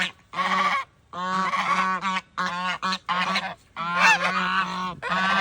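A gang of geese on a farm honks loudly and nearly nonstop, overlapping calls coming in rapid bursts with only brief pauses, up close and without talk.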